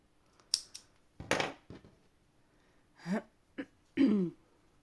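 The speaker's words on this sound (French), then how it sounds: "je vais couper les fils blancs" Scissors snip white yarn threads while working on a small crocheted Santa hat, a few short sharp cuts spaced over several seconds in a quiet room, near and clear.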